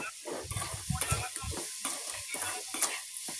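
Food frying in a pan with close, steady stirring: a continuous sizzle broken by bursts of scraping and shuffling.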